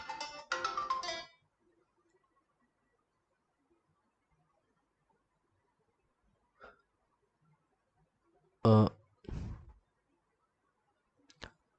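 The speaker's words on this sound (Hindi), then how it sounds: "मेरे दोस्त का फ़ोन आ गया था" Mobile phone ringtone for an incoming call, a loud melodic burst of about a second at the start, followed by near silence broken by a few brief clicks and knocks.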